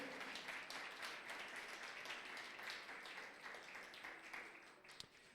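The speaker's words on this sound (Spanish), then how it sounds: "Dale otro aplauso al que vive." Faint applause from a crowd, a dense patter of many hands clapping at a distance that gradually eases off.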